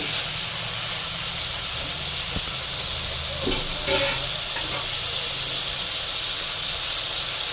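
Chopped ridge gourd sautés in a pan for a Bengali home recipe, giving a steady, close sizzle and crackle throughout, with a faint stirring scrape partway through.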